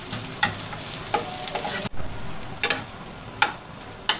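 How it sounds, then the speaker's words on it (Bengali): Chopped onions frying in oil until browned for a drumstick stalk dish, a continuous close sizzle with sharp scraping stirs of a spoon against the pan. "কিছুক্ষণ সময় নিয়ে পেঁয়াজটা ভেজে নেব ব্রাউন কালার করে।"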